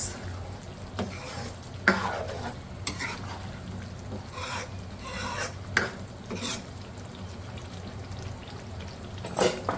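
Homemade garam masala being stirred into a black chickpea curry with whole green chillies, soft simmering bubbles under intermittent scraping strokes of a spoon against the pot, fairly quiet.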